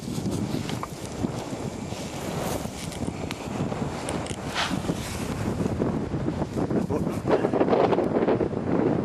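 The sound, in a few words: wind blowing on microphone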